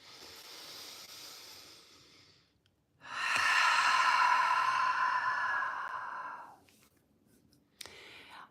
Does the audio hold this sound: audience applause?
no